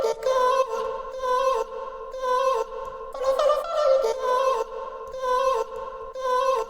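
Short chopped vocal snippets cut from the sung vocal of an Afro TikTok remix repeat in a rhythmic on-off pattern, clear and upfront with no talking.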